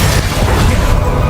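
A Bombarda explosion spell in the video game Hogwarts Legacy makes a loud, sustained boom with a deep, rumbling low end across the whole short moment.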